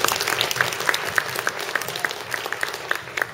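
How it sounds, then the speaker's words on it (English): An audience claps in a moderate, steady, quick round of applause, individual claps standing out near and clear. "So if we could give them a quick round of applause."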